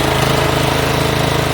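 An MTD riding lawn mower with blades that won't engage runs with a steady, loud, close engine drone. The chugging pulse stays even throughout and there is no talk.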